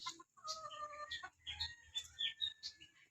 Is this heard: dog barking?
no